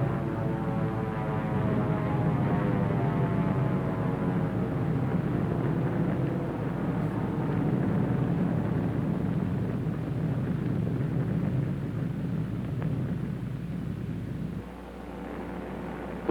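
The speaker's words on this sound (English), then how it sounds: "Here is one of the drone airplanes flying over the target fleet after the blast." A drone airplane flies over the target fleet at Bikini after the blast, a steady engine drone with a slowly shifting hum that holds throughout, then drops away abruptly near the end.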